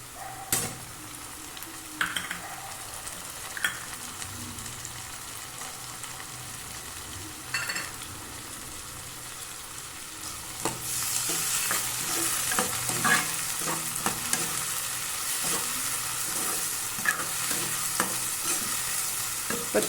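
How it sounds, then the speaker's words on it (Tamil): Tomatoes sautéing in a pan for dried fish kuzhambu, a quiet simmering sizzle with occasional spoon knocks at first, then growing into louder, busier stirring and scraping with a bright steady sizzle in the second half, no talking. "இப்போ தக்காளி நல்லா வதங்கட்டும்."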